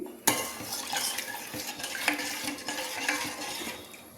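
A spoon stirring ragi porridge in a pot, scraping and clinking against the metal in quick, uneven strokes, with one sharper knock near the start and no talking.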